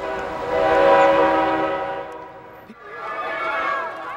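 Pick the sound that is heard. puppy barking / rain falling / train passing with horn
train passing with horn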